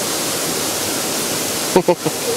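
Maguibuay waterfall, the second falls along the trail, pours as a steady broadband rush throughout, with a few brief voice sounds near the end.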